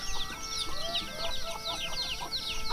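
Chickens cluck and squawk repeatedly in quick, overlapping bursts close by at a rural Phu Thai village home, busy and continuous across the short stretch with no talk.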